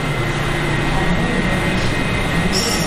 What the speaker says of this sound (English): here's a yellow line train headed for Mount Vernon Square, made up of a bunch of freighter rehabs